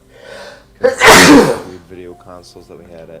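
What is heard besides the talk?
sneeze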